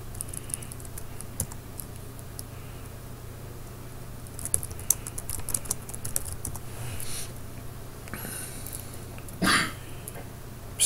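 Rapid typing on a computer keyboard clatters in irregular bursts at close range, fairly quiet, with a brief louder rustle near the end and no speech.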